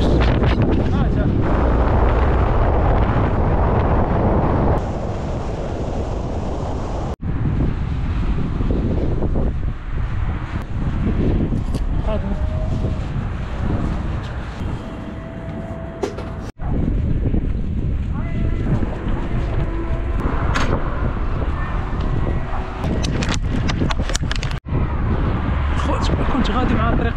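Strong wind on a road in a dust storm near Kelaat Sraghna, heavy gusts buffeting the microphone in loud, continuous roaring bursts with abrupt cuts, while someone talks over it.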